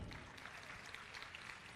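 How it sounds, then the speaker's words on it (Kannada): Audience applause at a ventriloquism show during a birthday celebration, a dense steady patter of many hands clapping, faint and distant throughout. "ಎಲ್ಲರೂ ಚಪ್ಪಾಳೆ ತಟ್ಟಿ ಅವ್ರಿಗೆ"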